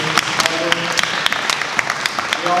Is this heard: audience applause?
yes